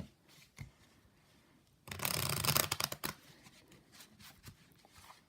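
A deck of playing cards is riffle shuffled as part of an Erdnase blind-shuffle routine that combines riffles and cuts. A dense, fluttering riffle of about a second sits between soft, scattered card handling and cut clicks, close and fairly quiet.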